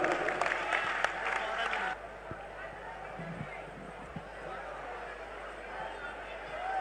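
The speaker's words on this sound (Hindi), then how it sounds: "जोरदार तालियां दी।" Audience applause at a live Hindi poetry and ghazal event, a loud burst of clapping that cuts off after about two seconds, leaving faint crowd murmur and scattered sounds.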